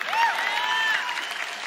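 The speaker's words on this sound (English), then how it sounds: "You can clap for that if you want." Chapel audience applause at a student government morning service, a dense wash of clapping with some whoops and cheers rising briefly over it, steady and moderately loud for under two seconds.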